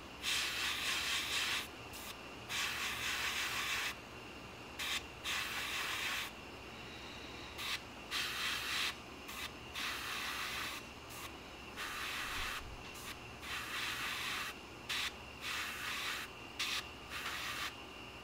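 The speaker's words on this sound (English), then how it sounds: "Got some MRP yellow loaded up in the cup. Make sure we're spraying good." An airbrush sprays MRP yellow lacquer onto a 1/48 F-4G Wild Weasel scale model, a steady close hiss that starts and stops in repeated short bursts with brief pauses between passes.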